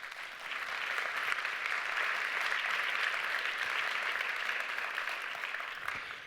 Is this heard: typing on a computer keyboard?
no